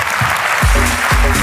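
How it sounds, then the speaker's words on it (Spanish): Audience applause at a live comedy podcast recording, a short burst of clapping with low voices and laughter mixed in underneath. "¡Aplauso para la ruina de Laura!"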